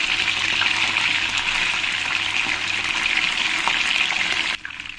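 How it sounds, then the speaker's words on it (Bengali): Chicken pieces fry in a pan in steady, loud, dense sizzling that runs unbroken, dropping off slightly near the end. "অল্প অল্প করে চিকেন দিয়ে আমি চিকেনটাকে ভালো করে একটু ফ্রাই করে নিই"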